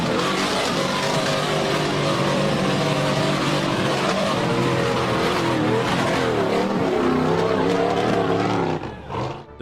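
Off-road buggy charging up a steep dirt bank on a 4x4 hill climb, its engine roaring loud and strained with shifting revs throughout, then dropping away abruptly at the end.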